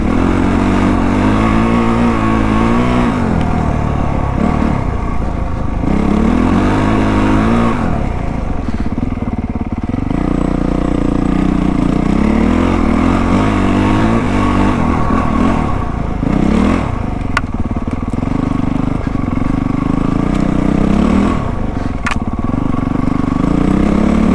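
A 2025 Honda CRF450R Works Edition dirt bike rides a snowy trail, its engine revving and dropping in repeated throttle bursts over steady close-up drone, with clatter from the terrain and no speech.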